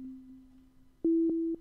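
A steady synthesized tone from Sonic Pi with echo at full mix, held low and soft, then jumping to a louder sustained note repeated in evenly spaced echoing pulses.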